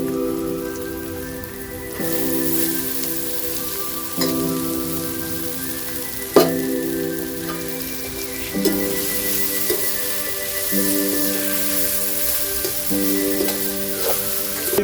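Boiled chowmein noodles fry with golden-browned onions in a hot pan, giving a crackling sizzle that swells as they are dropped in, with occasional clanks and scrapes of a utensil and steady hissing throughout.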